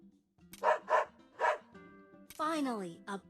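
Cartoonish dog barks from the Metal Slug Awakening video game, several short yips in quick bursts followed by a longer whining howl, set against game music.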